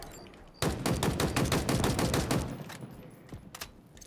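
Rapid automatic gunfire in the Halo Infinite multiplayer game, a dense burst of about two seconds followed by a few scattered shots, close and loud.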